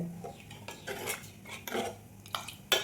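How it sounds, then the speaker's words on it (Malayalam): A ladle stirs Udupi rasam with cooked toor dal in a metal pot, giving several separate scraping and clinking knocks against the pot's sides, close and fairly quiet, with no voices. "എല്ലാം കൂടെ ഒന്ന് മിക്സ് ചെയ്തിട്ട്"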